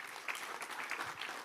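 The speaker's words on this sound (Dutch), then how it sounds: "Applaus voor de meester van de Jongerenraad." Audience applause at a local election debate between party leaders in Buitenpost, Achtkarspelen. The clapping is dense and steady and sounds fairly distant across its short span.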